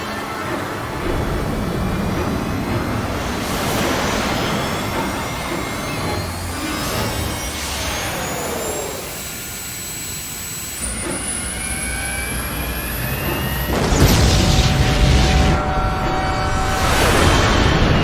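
Spaceship engine starting up in The Bouncer video game, a loud, sustained roaring whoosh with rising whines and sweeping pitches that swell in waves, with a fresh surge late in the run.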